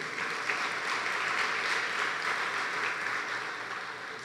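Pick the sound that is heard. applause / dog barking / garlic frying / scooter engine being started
applause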